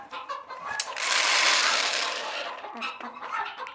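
Pet chickens about to be fed cluck and chatter at close range, breaking into a louder, sustained burst midway through, with a few sharp knocks around them.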